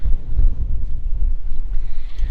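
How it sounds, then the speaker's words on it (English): Strong wind blowing outdoors at a backyard chicken coop, a steady low rumble of gusts buffeting the microphone, loud and continuous throughout. "Man, this wind is something else."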